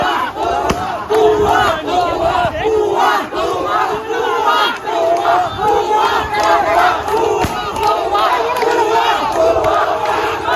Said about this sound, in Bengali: সবাই বিজয় মিছিল করছে